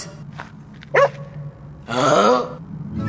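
A dog gives a short bark, then a longer, louder yowling bark-growl, close by with little else around.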